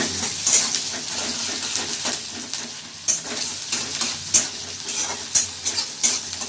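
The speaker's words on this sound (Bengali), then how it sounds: "এবার আমি পেঁয়াজগুলো কড়ায় ছেড়ে দিলাম।" Onions sizzle steadily in hot oil in a kadai, with a bright, constant hiss and repeated clatters of stirring heard close up and no talking.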